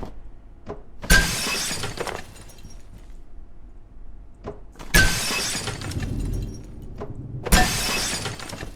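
Glass objects shattering as they are smacked in the video game Abiotic Factor, three loud separate crashes of breaking glass spaced a few seconds apart, each ringing out briefly with faint thumps between.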